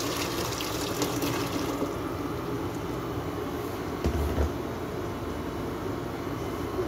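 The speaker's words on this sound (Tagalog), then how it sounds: "Lagyan na natin ng tubig." Water is poured into a cooking pot for rice, a soft, steady splashing rush at moderate distance for several seconds with no talking.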